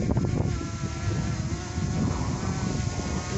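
Steady outdoor wind buffets and rumbles across the microphone while a drone flies on a breezy day, loud and continuous with no talking.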